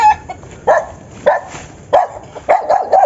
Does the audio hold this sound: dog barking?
yes